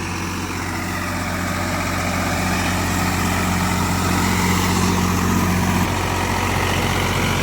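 A Swaraj 855 4WD tractor works through mud in first gear, medium range, at around 1800 rpm, giving a loud, continuous, deep diesel drone with a steady low throb close by and no talk.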